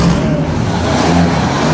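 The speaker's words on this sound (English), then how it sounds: "Right when this hot Ferrari's coming around" A hot Ferrari race car roars past at the Mille Miglia, a loud continuous engine drone that stays dense and steady throughout, with no talking.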